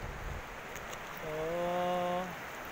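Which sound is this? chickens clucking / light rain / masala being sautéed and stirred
light rain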